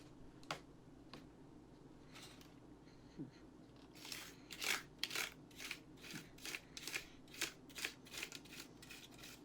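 Dust being fanned off a computer keyboard, quiet close flutters and papery whooshes that start sparse and then come as a quick rhythmic series of soft bursts, with no talking.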